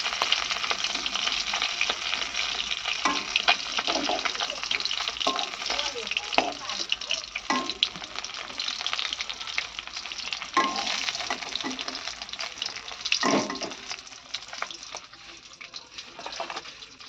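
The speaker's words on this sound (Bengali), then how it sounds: "বন্ধুরা, ভোলা মাছ ভাজা হচ্ছে।" Bhola fish sizzles steadily in hot oil in a Bengali home kitchen, a dense continuous frying hiss with occasional stirring scrapes and a splash of water near the end.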